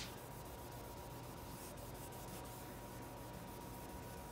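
Steady wet sanding of 2K clear coat sprayed over Krylon paint on a DIY speaker enclosure, a quiet continuous rubbing rasp with faint rhythmic strokes, no voices.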